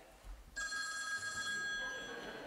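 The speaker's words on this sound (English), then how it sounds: "Suddenly, the phone rang." An office telephone bell starts ringing abruptly and keeps up a loud, sustained metallic ring for about two seconds over quiet room tone.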